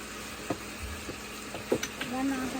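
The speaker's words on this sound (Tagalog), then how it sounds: "Hintayin na lang natin yan na mag-prito" Soft sizzling of food frying in a pan for tinola, a steady crackle with a few small knocks and clinks, under quiet background noise.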